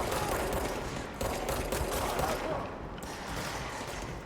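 Gunfire in the video game Control: a steady fusillade of game shots, moderately loud and dense, running through the whole stretch with no talk over it.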